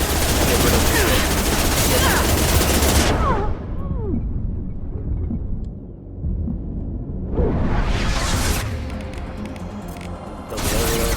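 SMG gunfire rattles in Mass Effect 2 as dense, loud bursts of rapid shots with combat noise, pausing briefly in the middle before more bursts resume.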